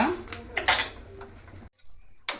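A utensil clanks and scrapes against a pan as raw rice is stirred and fried until crisp and golden brown. A few loud, close metallic knocks are followed by a short pause and one last clatter.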